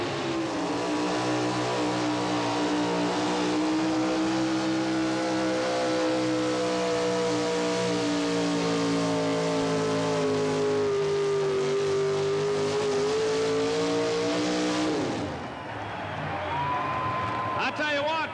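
Racing trucks in the 1988–1989 Red Man series roar at full throttle, a sustained loud engine drone with rising and falling harmonics for about fifteen seconds before the sound drops and shifts, with a commentator talking over it.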